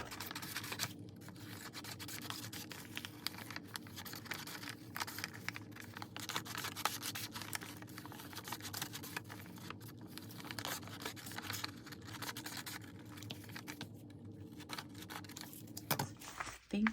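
Scissors cutting out paper love letters for a journal page, a steady close rustling and scraping that runs continuously throughout with no talking.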